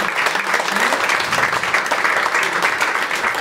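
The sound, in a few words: audience applause for the young rugby players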